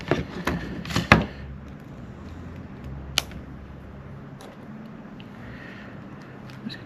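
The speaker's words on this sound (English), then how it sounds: "I'm just going to chop up these" Materials for a papier-mâché Christmas bird get cut, giving a few sharp, close snapping chops early on, then another single crisp cut over a quiet background.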